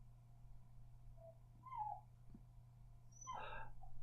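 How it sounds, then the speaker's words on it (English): A dog whimpers and grizzles near a farmhouse door in Wisbech, Cambridgeshire: a soft whine near the middle, then a louder, longer whimper with a high yelp toward the end, over a steady low hum. "So dog's grizzling."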